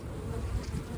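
A honeybee colony buzzing inside a hive, a low, steady drone of many wings held close and fairly faint, with no voices.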